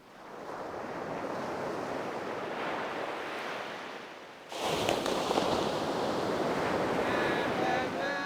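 Ocean waves roll in at a surf spot in a loud, continuous roar of surf, with wind buffeting the microphone and a sudden rise in intensity about halfway through.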